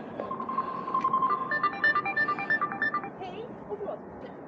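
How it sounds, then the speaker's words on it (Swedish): A phone built into a motorcycle-style helmet rings with a repeating electronic melody of short bright tones, fairly close and steady, over a low background rumble. "Telefonhjälm ringer."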